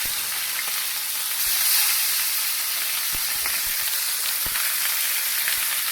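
Chicken thighs fry in hot oil after being flipped skin side down, giving a steady, close bright sizzle and hiss with a few soft pops and crackles throughout.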